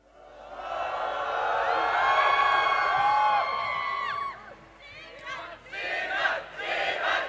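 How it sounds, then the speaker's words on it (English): An arena crowd at the League of Legends Rift Rivals 2017 esports event chants in unison, long sustained loud shouted syllables followed by shorter rhythmic calls. "So we did hear the crowd chanting"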